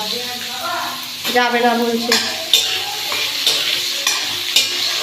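Panch phoron, dried red chillies and bay leaves sizzle in hot oil with a steady, close crackle, while a spoon stirs and clinks against the pan and a voice talks over the cooking.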